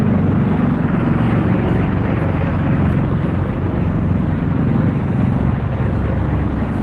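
Three helicopters pass low overhead, a loud, steady, broadband rotor roar that fills the whole stretch without letup, with no voices over it.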